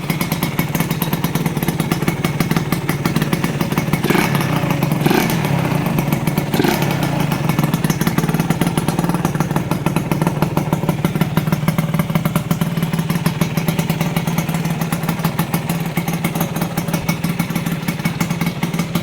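A Honda LS125D motorcycle's single-cylinder engine idles steadily up close, a rapid even putter with a couple of slight revs and no talking.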